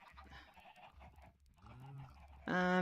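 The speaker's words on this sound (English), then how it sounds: "That's a sheep." A sheep in the Minecraft video game gives a short, clear bleat at the end, after quieter game sounds.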